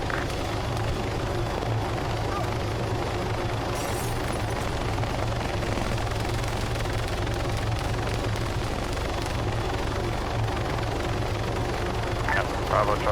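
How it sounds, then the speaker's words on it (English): A police helicopter hovers overhead during a firefight in The Syndikat campaign game, a steady low rotor drone filling the scene with dense noise and scattered bursts of gunfire. "We have a police helicopter above us."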